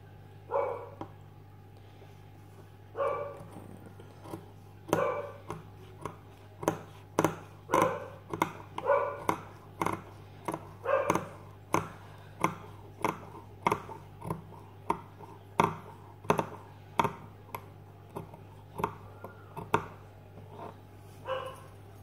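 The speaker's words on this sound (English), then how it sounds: "please excuse the dog" A dog barks repeatedly indoors nearby, starting with a few scattered woofs and then settling into a steady run of sharp barks at roughly one-second intervals, with no talking.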